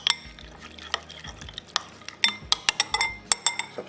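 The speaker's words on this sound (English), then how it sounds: "and give it a mix." Spoon stirring horseradish sauce made with sour cream, brown mustard and a touch of Worcestershire sauce in a bowl: soft scraping swirls punctuated by quick metallic clinks against the dish, growing busier and sharper toward the end.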